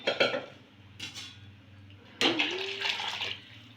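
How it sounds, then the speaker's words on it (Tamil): Hot water poured into a pot of mutton biryani, beginning with metal clatters of pot and utensils, then a steady splashing pour that runs for about a second before tapering off. "வெந்நீரை ஊற்றி மூடி வச்சுக்கலாம்"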